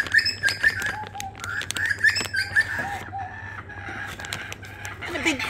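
Rooster crowing in an outdoor backyard setting, with repeated bird calls and whistly chirps around it; a person talks over parts of it while other birds call nearby.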